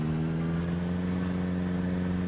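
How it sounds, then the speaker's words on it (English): A car engine in the Project Zomboid video game runs at a steady low idle after starting, a continuous close drone with no talking. "Start the car."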